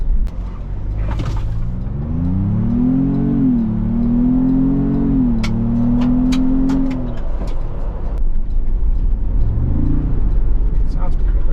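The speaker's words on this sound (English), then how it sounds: "So you'll have to rev out the engine to really feel the power." A Ford Bronco engine revs up from idle, climbing and wavering in pitch for a few seconds before dropping back, then gives a shorter second blip, loud and close inside the cabin.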